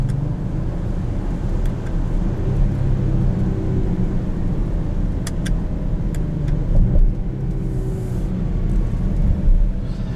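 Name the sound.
Range Rover Velar P340 engine and intake whine while driving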